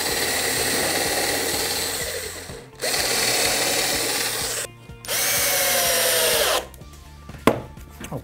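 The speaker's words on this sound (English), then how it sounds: "What I'm going to do is just drill a clearance hole in here, pilot hole in, and screw it in on all 4 corners" A power drill bores clearance and pilot holes and drives screws into pallet wood for a wall shelf, three long whirring bursts separated by short pauses, then a few knocks and quieter handling.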